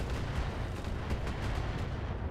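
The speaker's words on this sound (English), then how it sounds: "Laser, laser, and a bunch of rockets" Mech lasers and a barrage of rockets fire in the Battletech video game, heard as a dense rumbling roar of overlapping blasts with faint repeated thuds, steady and without speech.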